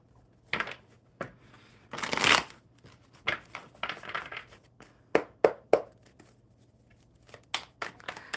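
Playing cards being shuffled by hand at close range during a live coffee-club card session: several separate riffles and soft shuffles with quiet gaps between.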